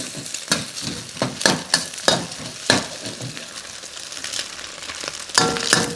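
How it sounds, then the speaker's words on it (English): Shrimp, egg and mixed vegetables, including carrot, are stir-fried over high heat for Thai fried rice: a steady close sizzle with a rhythmic series of sharp spatula scrapes and clacks against the pan, and no talking. "Stir it until it's almost cooked, and then add all the vegetable."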